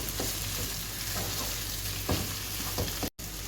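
Ground meat and corn filling for meat piroshki frying in a pan, a dense continuous sizzle with a few spatula stirs and scrapes, close up and without talk.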